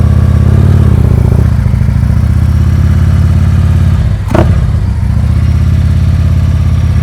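A motorcycle moving at slow speed during a riding skills practice session, its engine a loud, steady low drone with a brief dip and swell midway, close to the microphone, with no speech.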